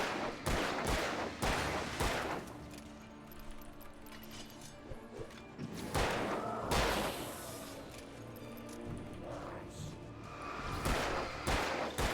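Gunfire rings out while shooting enemies in the Alan Wake video game, several loud bursts of shots and impacts spread across the passage, interleaved with quieter thuds and ambient game noise.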